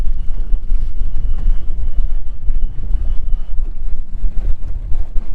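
Ballistic 204 bass boat doing a hole shot into the wind on open water, a loud, close outboard roar with heavy wind buffeting the microphone and water rush throughout.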